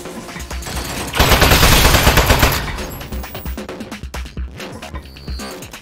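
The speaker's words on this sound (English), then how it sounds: "Oh, jeez, it's got a gun! It's an ambush!" Turret gunfire in the video game Aperture Desk Job: a dense, loud burst of rapid automatic shots fills the middle of the clip, then thins into scattered clattering hits and game sounds.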